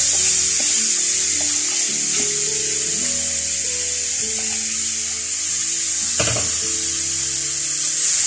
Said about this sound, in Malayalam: ഈ ക്യാരറ്റ് നല്ലോണം വഴറ്റണം